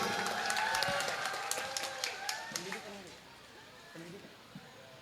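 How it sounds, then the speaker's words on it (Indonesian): A crowd claps in scattered applause at a university graduation ceremony, fading over a few seconds, with a voice speaking over it. "Tepuk tangan buat ekonomi"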